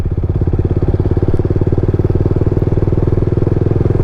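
A motorcycle engine runs steadily in third gear without throttle, a loud close rapid pulsing thump with an even, unbroken rhythm throughout.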